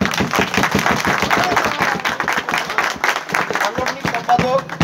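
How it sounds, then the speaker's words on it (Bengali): A crowd at an election results announcement claps in a dense, rapid patter that rises and falls while a voice speaks over it. "মাসুমের জন্য আরো জোরে হাত তালি দিন।"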